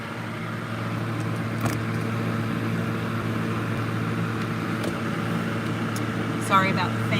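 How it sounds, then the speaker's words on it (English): An electric fan runs with a steady whooshing hum, close and continuous, forming a constant bed of noise in a desert camp setting, with a few faint clinks over it. "Sorry about the fan noise."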